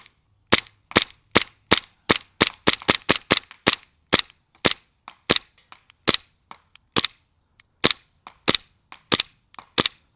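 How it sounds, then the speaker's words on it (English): Green gas airsoft pistol firing repeatedly, sharp loud pops in irregular bursts, some shots in quick succession and others spaced apart, heard alone without talk. "might as well test the airsoft gun while we have it."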